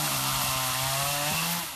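A chainsaw runs in Miami during hurricane cleanup, cutting through fallen wood with a loud, steady whine that fills the moment close up, with no voices.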